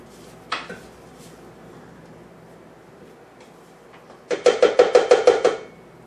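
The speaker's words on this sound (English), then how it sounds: "we want to scrape down our sides just to make sure everything gets well" Peanut butter cookie dough being scraped down the sides of a mixing bowl, heard as a rapid run of about eight sharp, rhythmic scrapes and knocks near the end, after a single earlier clack, with no talking.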